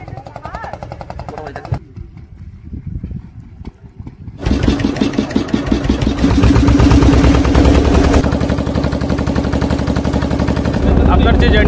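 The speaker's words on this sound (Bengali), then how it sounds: "এই যে ভাই চলে এলো স্কুটি নিয়ে" A scooter engine rolls up to a ferry ghat on the Chenai river near Mousuni Island, its rapid putter swelling loud and close, then running steadily; a voice speaks briefly early on.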